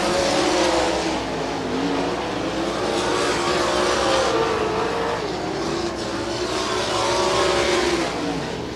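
Sprint race cars roar around the Benton County Speedway dirt oval in a late-race battle, engines loud and continuous with rising and falling revs as cars sweep past, a dense wall of engine noise throughout.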